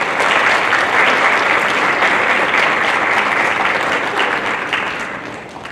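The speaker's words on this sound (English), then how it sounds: "So big round of applause to your parents." A crowd at a National Honor Society ceremony claps loudly and steadily for several seconds, a dense wash of hand claps that eases off slightly near the end, with no talking.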